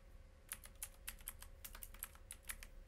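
Quiet, close computer keyboard typing, a quick irregular run of soft key clicks and taps lasting a few seconds over a faint steady hum.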